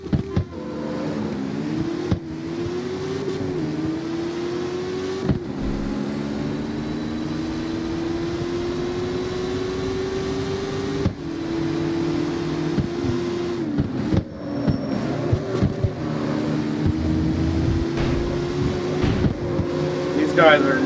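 An Audi race car engine in CarX Street hums and revs with a steady drone, rising and falling in pitch through gear changes, while a person talks over it.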